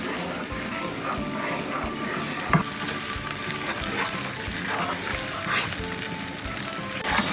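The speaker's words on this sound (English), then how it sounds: "Now we're going to just mix it." Vegan Thai curry sizzles and bubbles in a pan while being stirred, a close, steady frying hiss with small scraping clicks and one sharper knock midway.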